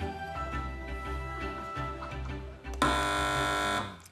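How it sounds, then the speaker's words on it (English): A quiz show contestant's buzzer sounds once, a loud, harsh electronic tone lasting about a second and cutting in over studio chatter and background music. "Fingers on buzzers, teams."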